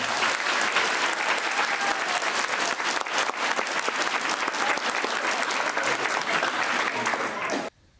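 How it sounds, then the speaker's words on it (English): A crowd applauds two high school star students of the week in a news segment, loud continuous clapping lasting around eight seconds before cutting off sharply. "So can we give them all a big round of applause?"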